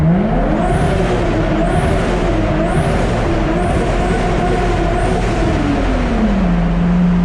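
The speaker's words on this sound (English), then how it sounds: "I love the way that my car sounds in here." A modified 550 hp R33 with a built RB25DET engine drones and revs continuously, heard from inside the cabin, its pitch rising and falling with a throaty rumble.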